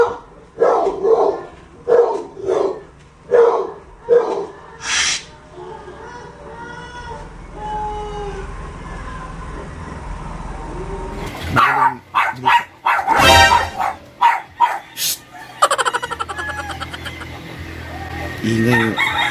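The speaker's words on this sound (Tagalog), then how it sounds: "ingay yung aso namin" A household dog barks repeatedly in loud, closely spaced bursts, then quiets, before a further run of sharp barks; a rooster crows at one point, and the barking dominates the scene with no talking over it.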